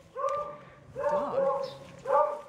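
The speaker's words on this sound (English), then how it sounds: "I think they're now bringing the dog." A dog at a family Easter egg hunt gives three short yipping, bark-like bursts at close range, with quieter gaps between them.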